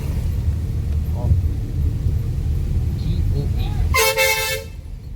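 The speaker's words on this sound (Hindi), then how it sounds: "मेरे कान के पास ना हॉर्न मारना" A car horn blares in one loud, sustained honk close by on a narrow road in Goa, heard over the steady rumble of a Fiat Linea driving, with a person speaking in the cabin.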